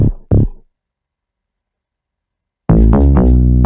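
A Gqom synth bass line from a Nexus preset fires two short, deep stabs, falls silent for about two seconds, then returns with a loud, sustained, punchy bass phrase, close and dry.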